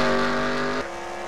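Race cars roar around Bristol in a heat race, a loud, steady engine drone whose pitch drops sharply partway through as the pack passes.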